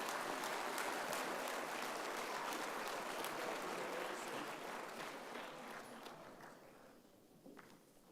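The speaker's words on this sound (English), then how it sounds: "How about one more big round of applause for all of our state sportscasters of the year and all of tonight's honorees" Big round of applause at the 62nd NSMA Awards Banquet for state sportscasters of the year and honorees, a dense, distant-sounding crowd clapping that gradually fades away over several seconds.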